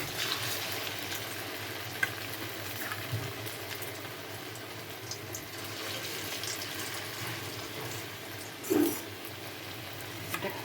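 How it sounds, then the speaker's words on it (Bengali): Potatoes frying in hot white cooking oil, a steady close sizzle and bubbling that runs throughout, with a brief louder burst of spatter near the end and no talking. "তেলটা গরম হয়ে গেছে আমি সাদা তেল নিয়েছি ইচ্ছা করলে এখানে সর্ষা তেল দিয়েও ভাজা যায় এখন আলুগুলো এর মধ্যে দিয়ে আমি ভেজে নিব"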